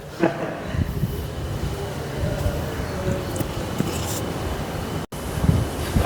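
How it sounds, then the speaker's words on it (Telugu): Strong wind roars steadily across the top floor of the Yarada Dolphin lighthouse near Vizag, a continuous, loud, broadband buffeting with gusty low rumbles throughout. "బీభత్సంగా గాలి అయితే పడుతుంది ఇక్కడ నుంచి"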